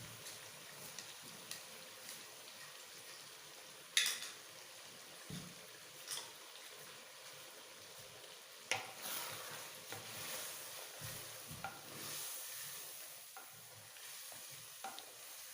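A paste of ground tomato, ginger, garlic and green chili frying in a pan for white chicken korma, giving a steady close sizzle broken by stirring scrapes and small clatters throughout.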